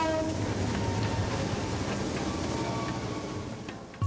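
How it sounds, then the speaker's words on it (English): A train rattles past in Bangladesh, a loud continuous rumble and clatter of rail cars that holds steady for several seconds, with a faint horn-like tone mixed in and a slight fade near the end. "Trains rattle by every hour"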